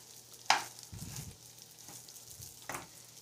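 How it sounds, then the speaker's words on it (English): Jasmine rice sautés in oil with onion and garlic in a pan, giving a steady close sizzle broken by a few sharp stirring scrapes and clinks, with no voices. "I'm frying some jasmine rice, and all I added was some oil, some onion, and a piece of garlic. I'm just sautéing the rice right now."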